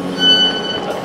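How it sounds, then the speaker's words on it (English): Northern Class 158 diesel train arriving at Manchester Oxford Road, heard from on board as a steady low rumble of the carriage with faint high squealing tones from the wheels or brakes. "that was a pleasant ride on a Northern Class 158 from Wigan Wallgate to Manchester Oxford Road via Eccles"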